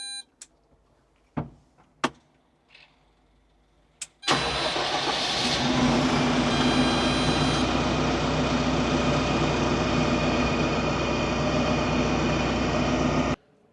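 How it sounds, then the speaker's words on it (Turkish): A Landini Series 4-070 tractor starting: a few clicks and knocks, then the diesel engine catches abruptly and settles into a loud, steady close idle that runs until a sudden stop. "Sonrasında debriyaj pedalına basarak kontağı açıp traktörümü çalıştırabilirim."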